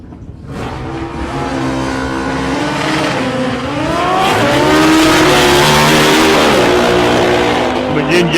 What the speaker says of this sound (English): And David McGinn, the Kawasaki, the Cracker Z1.